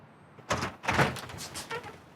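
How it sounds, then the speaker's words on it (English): A door swings open at a residential address as police officers arrive with a search warrant: two solid knocking thuds and a clatter close by, followed by quieter rattling and shuffling. "Open the door, please."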